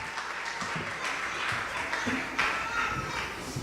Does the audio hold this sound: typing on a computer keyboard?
no